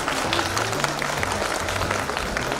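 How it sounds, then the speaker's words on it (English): Audience applause at a school family jamboree after a student stage performance, a steady, dense roar of many hands clapping, loud and continuous, with faint crowd murmur and a low hum underneath. "a big round of applause."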